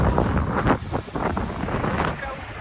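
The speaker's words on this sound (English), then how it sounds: "if it's insanely windy, I do apologise" Gusty coastal wind in California buffets the microphone with rough low rumbles, while a voice speaks faintly underneath.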